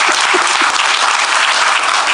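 Audience applause from a crowd gathered for a talk about primary health care and government priorities, a dense, steady clatter of many hands clapping that stays loud and even for its whole length without any voices over it.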